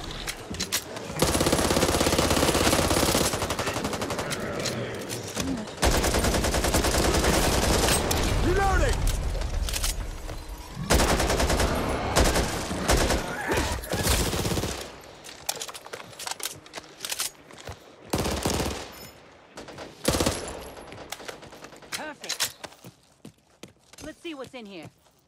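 Gunfire in the zombie shooter Back 4 Blood, sustained automatic bursts and rattling shots up close, breaking into sporadic single shots later, with game voices talking over the action.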